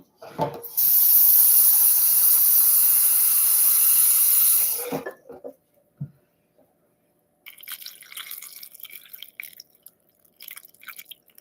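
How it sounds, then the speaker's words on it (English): Kitchen tap water pours steadily into a pot of grape leaves for about four seconds, then shuts off, followed by clinks, handling noises and softer splashing and dripping. No one speaks. "Now I'm going to fill up this with water."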